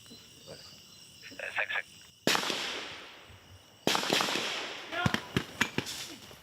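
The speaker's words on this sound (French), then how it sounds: "Coups de feu, hurlements" Gunshots ring out at a gendarmerie school in Abidjan: two loud, sharp blasts, each trailing off in a long rumble, then a burst of quicker, closer cracks, with voices faintly present.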